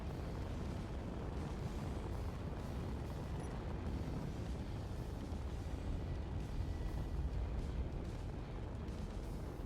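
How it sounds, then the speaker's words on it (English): Cannons on a spaceship firing in the space combat game Ares at War, a dense, continuous barrage of loud booming blasts that rolls on without a break. "Man the main batteries! Cannons to full!"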